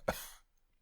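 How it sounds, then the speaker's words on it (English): A single sharp cough, close and fairly loud, bursting out and trailing off quickly into quiet. "I've got a cough."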